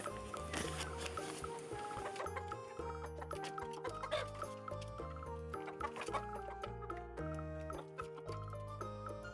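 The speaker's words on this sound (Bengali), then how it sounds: "বন্ধুরা, এই মোরগটা দেখো কত সুন্দর" A rooster clucks in short bursts while background music plays steadily throughout.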